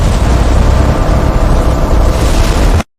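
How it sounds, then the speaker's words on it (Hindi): Strong storm wind roars as a dense, loud broadband rush with low rumbling like thunder, steady for nearly three seconds before cutting off abruptly to silence. "बिजली चमकी और तेज आंधी चलने लगी।"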